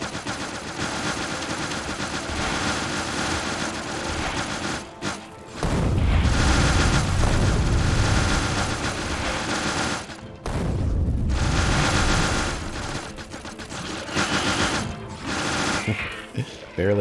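Rockets and gunfire against a biter nest in Factorio, dense rapid bursts of booms and rattling shots in two long loud volleys separated by brief lulls.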